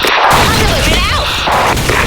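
Video game explosions and gunfire boom loudly and continuously, with dense bursts filling the whole moment; talk is faintly mixed in.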